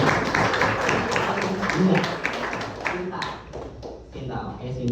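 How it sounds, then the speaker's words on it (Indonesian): Applause for a child who answered a classroom civics quiz correctly, a few seconds of group clapping and tapping mixed with voices, tapering off toward the end. "Tepuk tangan buat"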